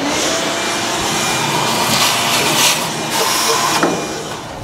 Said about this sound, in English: I have my shop vac and I'm just gonna vacuum it all out